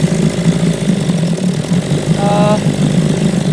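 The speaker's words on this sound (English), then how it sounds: "you start it up, it runs. It's idling nice." A 1957 Evinrude 7.5 outboard motor idles steadily with an even, low, pulsing putter that holds at one level throughout, close by, with no talk over it.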